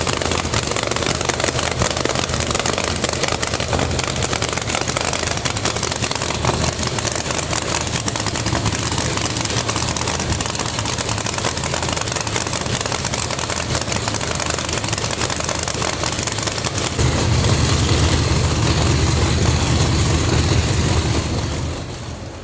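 A nitrous Chevrolet S10 race engine, FuelTech FT700 managed, roars on a hub dyno, a loud, dense, unbroken rumble with crackling exhaust that deepens and swells near the end before cutting off.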